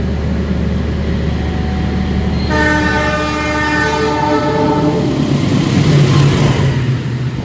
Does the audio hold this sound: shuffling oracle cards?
no